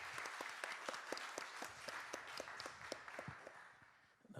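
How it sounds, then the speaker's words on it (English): Faint, sparse clapping from a small group at a school celebration of Asian American and Pacific Islander Month, individual claps ringing out at a brisk, fairly even pace in a quiet hall. "So please give clapping for yourself."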